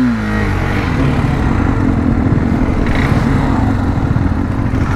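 A KTM RC 390 motorcycle engine runs continuously at a lineup, a loud close buzzing drone with slight rises in revs and no speech over it.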